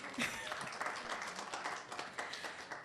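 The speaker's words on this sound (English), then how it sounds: "I think you should clap for us." Clapping from an audience at a quiz balloting event, a faint, steady patter of many hands heard from a distance.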